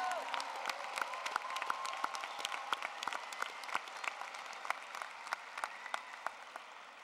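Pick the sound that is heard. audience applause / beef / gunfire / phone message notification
audience applause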